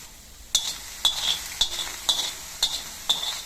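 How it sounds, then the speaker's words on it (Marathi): Soaked beans with salt roast on a hot griddle as a festival offering, six evenly spaced scraping stirs over a soft sizzle, close and clear with no talk. "गरम तव्यामध्ये भिजाने टाकलेले आहेत थोडंसं मीठ टाकून त्याच्यावर थोडंसं गरम तव्यावर परतू दिलं"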